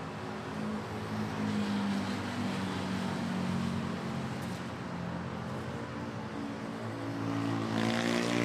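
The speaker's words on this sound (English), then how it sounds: "A320 about to touchdown from Taipei, Taiwan." Airbus A320 airliner arriving from Taipei and landing at Manila Airport, a steady loud engine roar with low droning tones that holds throughout and swells near the end.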